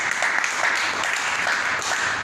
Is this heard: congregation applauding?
yes